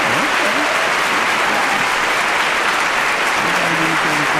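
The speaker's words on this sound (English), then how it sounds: "Somebody clapping." Loud, dense clapping from a group fills the whole stretch as continuous applause, with faint voices at the start and end.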